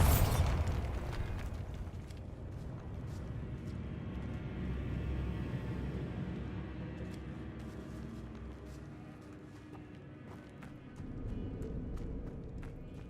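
The Bombarda blasting spell goes off in the video game Hogwarts Legacy, a sharp burst followed by a long rumbling roar that fades and then swells again with debris noise.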